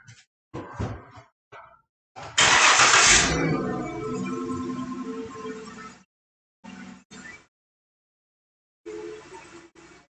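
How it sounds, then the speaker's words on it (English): A car engine cranking and catching during an automotive alignment demonstration, a loud starter burst settling into a steady idle that fades out, surrounded by short clunks and handling noises, no talk. "I'm going to start up the car"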